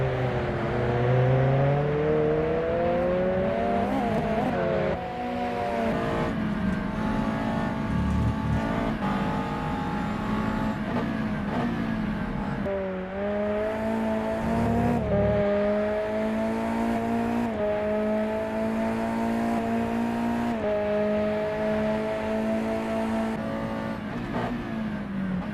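USF2000 open-wheel race car screaming through a club-track lap, engine note climbing and dropping steadily through gear changes and corners, loud and close throughout with no talk.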